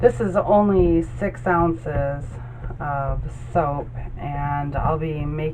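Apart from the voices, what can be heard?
No distinct noise like a dog, phone or traffic.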